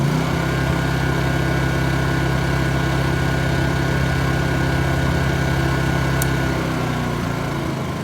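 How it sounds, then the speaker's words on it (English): A Honda EU2200 portable generator running on old 100LL avgas runs steadily and loudly close by, its drone slightly uneven with faint irregular stumbles throughout. "you can maybe hear it sputters a little bit."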